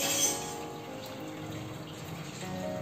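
Water is poured into a dish as part of preparing a spicy chicken thali, giving a steady close-up pouring and splashing that runs for about three seconds with no talk.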